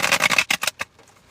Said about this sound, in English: Here it is, the bridge shuffle.